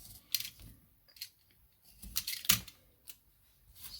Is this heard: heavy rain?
no